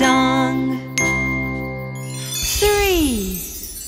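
Bells ring out in a children's lullaby, bright chiming tones struck a few times over a sustained musical backing, with a singing voice gliding down at the end.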